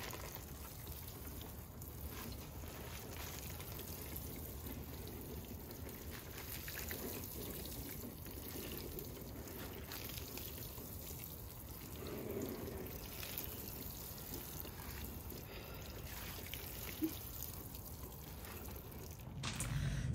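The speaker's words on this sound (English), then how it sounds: "so let me get that watered real quick." Garden plants are watered, producing a soft, continuous trickle and patter of water, faint and steady throughout with no talking.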